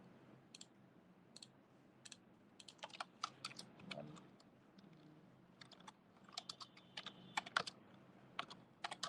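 Computer keyboard typing while entering notes on a trading chart, irregular bursts of light close key clicks with pauses between, quiet room, no speech.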